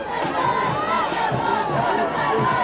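A large crowd roars and chatters at a 1987 Jefferson County high school football game, a loud, steady wash of voices and shouting heard close and unbroken.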